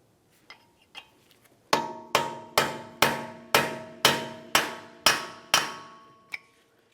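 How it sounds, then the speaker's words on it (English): A hammer strikes a punch against a CV axle on a 1994-1997 Honda Accord 2.2L, breaking it free from the wheel bearing assembly: after a few lighter taps, about nine ringing clangs, each leaving a short metallic decay. "Use a hammer and punch to break the axle free from the wheel bearing assembly"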